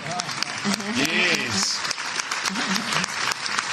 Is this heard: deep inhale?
no